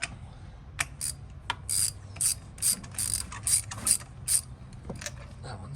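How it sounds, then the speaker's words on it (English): Ratchet wrench clicking in short repeated bursts while spark plugs are backed out of a car engine during a valve cover gasket replacement, close and moderately loud, with brief pauses between strokes. "now we're going to take all the spark plugs out"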